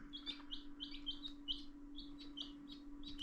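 Meat chickens on an off-grid homestead give quick, repeated high chirping peeps in a steady rhythm, faint and close, over a constant low hum with no talking.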